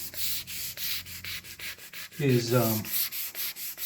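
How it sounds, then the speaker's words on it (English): Repeated strokes of sandpaper rubbing grain filler on a swamp ash guitar body, a steady back-and-forth scratching rhythm close to the microphone, with a brief voice cutting in midway. "Sanding out the grain filler."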